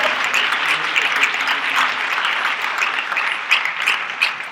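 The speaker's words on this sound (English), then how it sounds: "So if everyone can please just join me in giving a round of applause to Gregory for being here." An audience applauds after a keynote address at the Listen to the Silence 2017 conference, a dense, even round of clapping from a sizable crowd throughout, with no voices over it.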